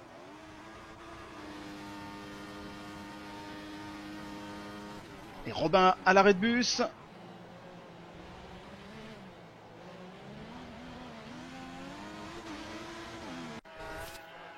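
Race cars in a racing video game, including a Marussia and a Mercedes, give a steady engine drone with a brief loud burst of high revving and tire noise midway, under continuous French commentary.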